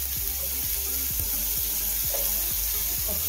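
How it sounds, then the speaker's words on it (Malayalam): Carrots sautéing in a hot pan for beef biryani, a steady close sizzle with a faint metallic clink of stirring throughout. "നമ്മൾ ക്യാരറ്റ് ഇട്ട് നന്നായി വഴറ്റണം"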